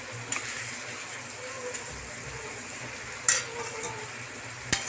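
Ridge gourd goes into a simmering fish curry in a pan, giving a low bubbling sizzle with a couple of sharp clanks of the spoon as it is stirred in.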